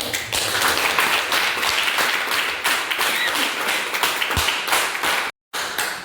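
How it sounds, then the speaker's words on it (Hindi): An audience claps to welcome a speaker to the stage at a meeting, loud, close applause from a crowd that continues steadily, briefly cut off near the end before resuming. "मैडम को जोरदार तालियों के बीच बुलाना चाहूँगी कि मंच पर आएँ"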